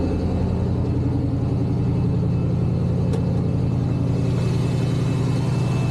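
A cold 1988 Pontiac Firebird V8 with shorty headers and an Edelbrock Performer intake idles close by, a steady loud low chugging rumble with an even pulse throughout and no voices.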